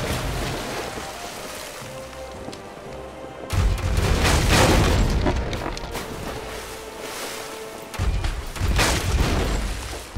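Cannon fire from a pirate ship in the online game Pirates Online, two heavy booming blasts several seconds apart, each rolling into a long roar over a low ambient sea backdrop.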